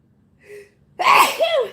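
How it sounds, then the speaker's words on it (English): A single loud sneeze bursts out after a brief sharp intake of breath, close and clear with no talking. "And I'm getting ready to sneeze."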